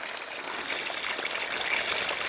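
A tap runs steadily while a glass is washed, a soft continuous stream of water close by with a gentle trickling texture throughout, no voices over it.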